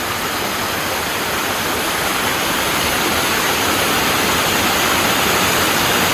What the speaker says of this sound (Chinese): 蝴蝶谷瀑布的真面目了。